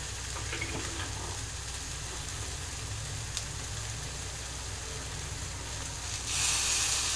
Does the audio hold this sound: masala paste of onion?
yes